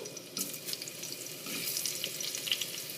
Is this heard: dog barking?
no